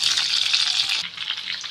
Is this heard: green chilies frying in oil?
yes